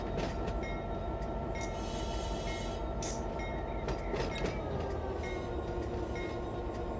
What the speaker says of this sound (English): We're running the SD40 TAC 2s here